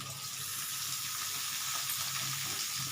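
Three thinly sliced onions frying in hot oil in a pan for a Bengali chicken curry, a steady hissing sizzle at moderate level with no talking.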